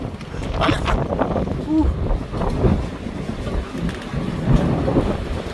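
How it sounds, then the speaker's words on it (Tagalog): Strong wind roars and buffets continuously close by, with rumbling gusts and a hint of rain-like hiss, loud throughout. "Parinig ko sa inyo yung hangin."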